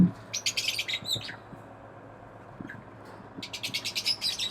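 Lovebirds chirp in rapid, shrill bursts inside an aviary, one flurry at the start and another toward the end, with a quiet gap between.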